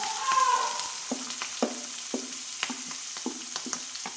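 Garlic, ginger and green chili frying in hot oil with mustard seeds for a rambutan pickle, a close sizzle punctuated by repeated sharp spoon taps and scrapes against the pan.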